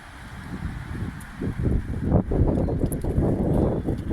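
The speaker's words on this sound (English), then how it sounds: "Apologies if you're getting some wind noise today. It is quite blustery." Gusty wind buffets the microphone outdoors at Bandon Hill Cemetery in South London, a steady low rumble that swells and surges through the middle and stays loud to the end.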